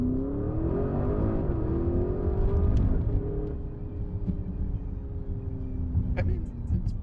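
An SUV engine in sport mode downshifts, revs up and pulls hard, its rising drone steady and close, with someone talking over it.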